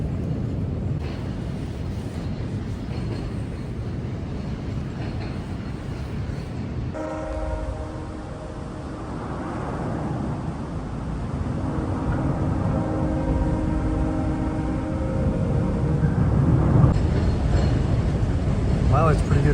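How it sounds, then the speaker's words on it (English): A heavy, continuous train rumble with low droning and rattling as a train crosses a bridge overhead, swelling louder toward the end, heard up close. "The rumble from the train and the cars, it's such a weird feeling."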